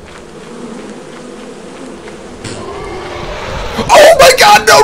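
A swarm of bees buzzes in the video game Lethal Company, a steady drone heard close, then joined by loud, panicked screaming bursts near the end.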